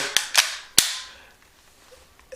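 Sharp metallic clacks from an AR-15 rifle being handled, three quick snaps close by followed by a fading tail and quiet room noise.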